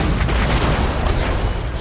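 Heavy cannon fire and artillery explosions rumble through a big battle in Total War: Warhammer, a dense, loud, continuous barrage of booms with no gaps.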